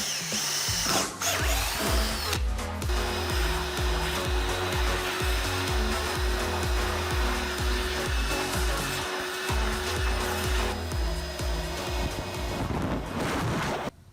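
A power drill whirs loudly in repeated bursts, its motor pitch rising and falling as it bores, with brief pauses between runs.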